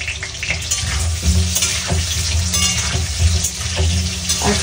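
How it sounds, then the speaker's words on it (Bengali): Potatoes sizzle steadily as they fry in hot oil in a pan, with a dense crackling hiss throughout and occasional stirring scrapes. "আলু ভেজে নেওয়ার জন্য।"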